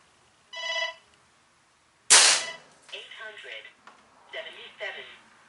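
A phone gives a short, bright tonal message notification, followed by a sharp, loud air gun blast and then a person talking.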